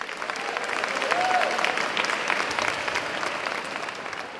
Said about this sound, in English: you can hear the applause on the tape, and in real life.